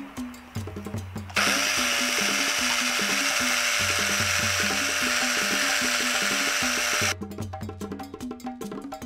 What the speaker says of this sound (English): I'm going to use my small impact wrench to try with an iron brush if I can clean some of the rust.